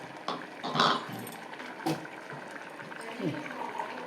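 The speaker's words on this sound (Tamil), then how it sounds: "இப்போ நம்ம கீரையும் பருப்பும் சேர்ந்து நல்லா கொதி வந்துட்டோம்" Drumstick leaves and toor dal bubbling together in a pot for a South Indian kootu, a soft uneven simmer with occasional louder pops and stirring scrapes, close by, while someone talks over it.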